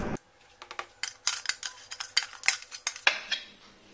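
Spoon or spatula scraping eggless banana-chocolate cake batter out of a bowl, a series of quick close metallic scrapes and clinks in an irregular rhythm, no voices.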